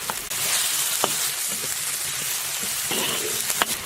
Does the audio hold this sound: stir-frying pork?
yes